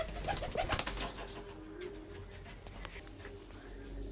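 Teddy pigeons coo softly in a loft, low murmuring calls clustered near the start and fading into a steady background hum with faint chirps.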